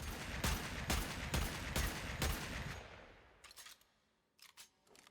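AkLex pistols firing in Warframe crack out as a quick, evenly spaced run of about six sharp shots. The reverb tails off, then a few fainter scattered pops follow in the quiet that comes after.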